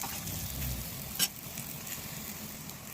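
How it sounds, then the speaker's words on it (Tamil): Brinjal fries in oil in a pan with chilli powder, a soft steady sizzle with one brief sharp clatter midway as the pieces are turned. No one speaks. "ஒரு 5 செகண்ட் ஃப்ரை பண்ணிவிட்டு திருப்பி போட்டு ஃப்ரை பண்ணிடுங்க."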